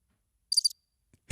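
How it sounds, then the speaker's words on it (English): Crickets chirp in a short, bright burst of a few quick pulses, set in an awkward silence after a guitarist's song at a dining venue, followed by a sudden low thump. "Crickets."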